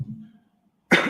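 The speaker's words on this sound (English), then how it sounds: "nervous cough" A single nervous cough bursts out close and loud in a courtroom after a moment of near silence, with a low murmur of voice just before it.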